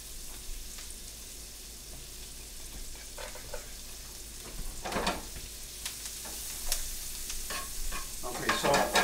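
Vegetables sizzling in a hot pan for a Provençal sauce, a steady frying hiss with intermittent scraping and clattering as a utensil stirs them, growing busier toward the end.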